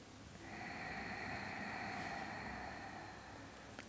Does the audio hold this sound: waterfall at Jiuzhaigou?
no